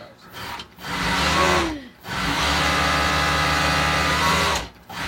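A servo motor, converted from a clutch motor, runs at high speed, a loud steady whine that cuts out and restarts in bursts with short pauses between them.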